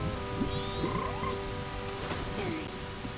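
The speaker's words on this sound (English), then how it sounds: "That's the Garo frog." A Garo frog croaks in Zelda: Majora's Mask, a few short croaks over a steady game ambience with a faint rain-like wash and droning background tones.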